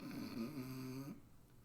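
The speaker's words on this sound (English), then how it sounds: "snoring again" Snoring from a sleeping character, one long drawn-out rumbling snore with a tonal, buzzing quality that stops abruptly, leaving quiet.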